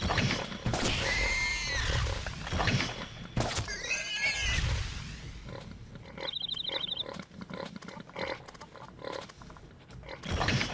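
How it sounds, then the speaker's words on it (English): Pig-like animals in the Mabinogi online game give repeated grunts, snorts and squealing whinnies, loud and close, overlapping with faint game effects. "these guys make constant pig snorts"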